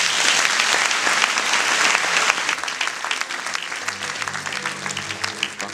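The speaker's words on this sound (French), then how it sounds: "Ça mérite les acclamations." Sustained crowd applause fills a Christian church gathering, dense at first, then easing slightly as a low musical hum enters beneath it.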